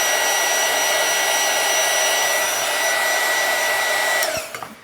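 A heat gun blows a loud, steady whooshing hum while heating Barge contact cement, running continuously close up before cutting off at the end.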